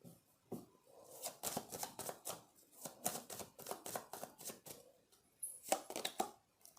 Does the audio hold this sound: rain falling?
no